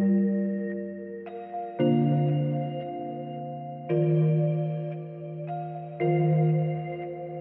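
Dark ambient keys soaked in spread, reverb, saturation, reverse and delay effects play slow sustained chords, each new chord swelling in roughly every two seconds with long washy tails, steady and alone.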